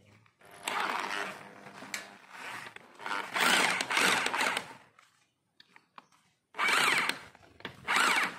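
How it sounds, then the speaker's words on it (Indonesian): A power drill bores holes for dynabolt anchors in several loud, sustained bursts separated by brief quiet gaps, close by, with faint voices between the runs. "Drilling"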